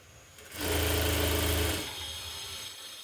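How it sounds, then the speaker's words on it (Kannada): A sewing machine stitches an open blouse sleeve in a single whirring burst of a little over a second, rising out of a quiet room and falling back to a low hum. "ಅದೇ ಮೆಥಡಲ್ಲಿ ಈ ರೀತಿ ಹೊಲಿಗೆ ಹಾಕ್ಕೊತೀವಿ ಅಷ್ಟೇ."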